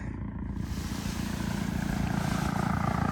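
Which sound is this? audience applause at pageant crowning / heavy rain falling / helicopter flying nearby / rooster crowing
helicopter flying nearby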